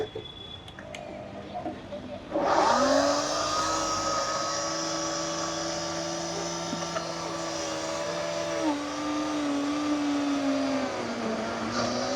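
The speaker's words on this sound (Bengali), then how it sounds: "আমার ব্লেন্ডার প্রেসার দিতে পারতেছে না।" Electric blender whirring loudly as it blends mango juice at a food cart, a steady motor drone starting abruptly and running without pause, its pitch dipping slightly near the end as the machine strains.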